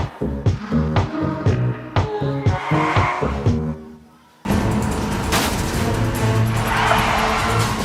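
Remote control cars staged in a homemade action-movie car chase: a series of sharp, rhythmic engine and impact bursts, then a brief drop to near silence before a sustained loud roar of motors and tire squeal.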